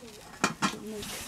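A cooking pot holding vegetables is handled in a home kitchen, giving two brief metallic clanks close by, with faint voices and room noise around them.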